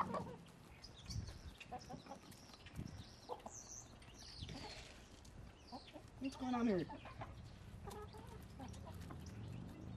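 Chickens cluck and squawk close by while their flight feathers are trimmed, with a rising squeal midway and scattered wing flaps, while a person speaks briefly.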